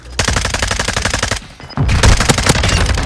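Rapid automatic gunfire from a Call of Duty match plays loud and close in repeated bursts, with a brief lull before heavier, denser shots resume.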